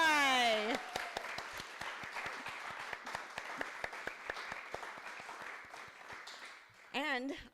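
Applause for a performer at a house concert, a small audience clapping in a steady patter of distinct claps that gradually thins out, with a voice speaking at the start and again at the end.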